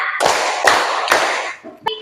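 Classroom of fifth-grade students clapping hands in counted rounds during an ice-breaking break, three loud sharp group claps in a steady rhythm, followed by a lone small tap.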